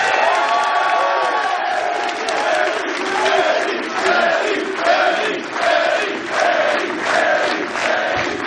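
A large wrestling crowd cheers and shouts loudly for Eddie Kingston, a dense sustained roar with rhythmic surges of chanting and scattered whoops, with no clear applause heard.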